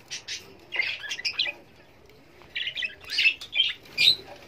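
Budgerigars chirp and twitter in their nest boxes, bursts of bright squeaky calls coming in clusters with short pauses, close by and fairly soft, with no talk.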